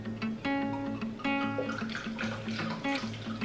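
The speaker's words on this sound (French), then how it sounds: "je vais venir verser dans un récipient 500 ml d'eau" Water poured into a container, 500 ml in all, a steady splashing fill with rising tonal ringing as the vessel fills, close and fairly loud across the whole stretch.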